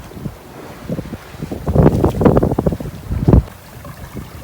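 Breeze gusts across a sailboat on calm seas during a day-sail, buffeting the microphone in rising and falling rushes over a low watery wash, loud and close, with no one talking.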